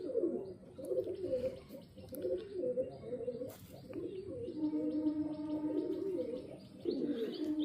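Young Malwai pigeons coo and chirp up close in a continuous low, warbling stream with brief higher peeps and a few soft wing flutters, no talk.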